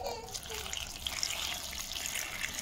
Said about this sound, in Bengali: ঝিঙেটা আমি ধুয়ে তারপরে পিস পিস করে কাটবো।